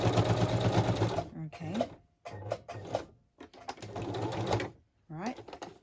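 A sewing machine runs in bursts while stitching around a small handmade Easter journal, loud whirring runs broken by pauses and thread handling, with a brief spoken word between bursts.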